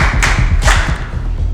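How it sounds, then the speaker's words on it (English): An audience at a school quiz competition claps for a team, with dense close hand claps and a couple of sharper bursts across a short stretch. "Please put your hands together for them, please."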